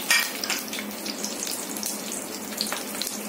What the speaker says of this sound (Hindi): इधर मैं थोड़ा सा कलौंजी काला जीरा डाल रही हूँ और ये एक ग्रीन चिली डाल रही हूँ।